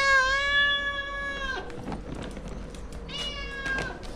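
A house cat meows loudly for food, two long drawn-out calls close by, the first lasting about a second and a half and the second briefly later, with quiet room sound between them.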